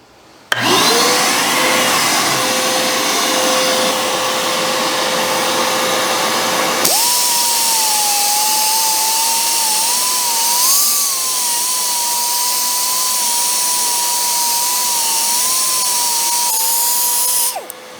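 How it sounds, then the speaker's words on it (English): A high-pitched power grinder with a flap wheel whines continuously, shifting pitch partway through as it bites into a steel motorcycle frame, loud and close, then spins down at the end. "a little more noise with the flap wheel. So time to have a little bit of fun, and let's get grinding"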